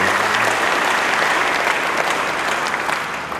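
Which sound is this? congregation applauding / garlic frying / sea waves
congregation applauding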